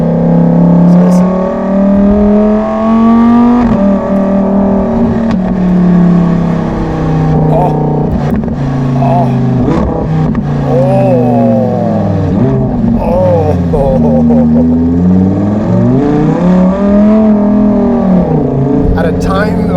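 A Lamborghini Huracan Tecnica fitted with a Novitec exhaust revs loudly and continuously up close, its engine note rising and falling in repeated sweeps for the whole stretch.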